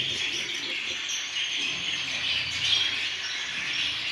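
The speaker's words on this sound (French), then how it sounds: "les moineaux du Japon" Society finches, also called Japanese sparrows, chirp continuously in an aviary, a dense chorus of high, thin calls with a few louder notes, steady and fairly close, with no talk.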